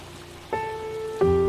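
Steady rain falls as a constant, even hiss, with two sustained tonal notes entering over it partway through.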